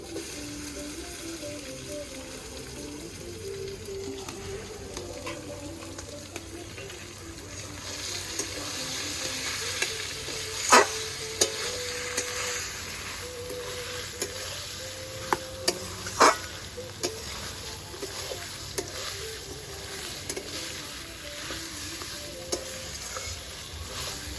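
Chicken pieces sizzling in fried spice masala for chicken kasha, a steady close frying hiss broken by sharp clacks of a spatula stirring against the pan; no voices.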